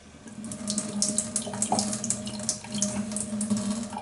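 Tap water runs steadily and gently close by as a traditional shaving soap is wetted, a soft continuous trickle with small splashes throughout, no voices.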